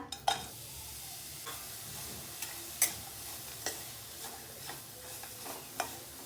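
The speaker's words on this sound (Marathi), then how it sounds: "त्याच कढईमध्ये अर्धा चमचा साजूक तूप आणि हे एक वाटी गूळ टाकून घेऊया" Soft scraping strokes of a spoon in a pan, stirring jaggery melting in ghee, repeating at an unhurried pace over a faint sizzle, close by with no talking.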